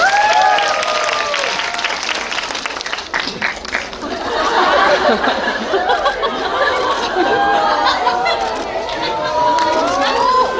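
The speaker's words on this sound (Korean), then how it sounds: "네, 박수 한번 주시죠." Audience at a cinema star event applauds after an on-stage proposal moment, loud clapping mixed with crowd chatter and scattered laughter, with talking voices threaded through the noise.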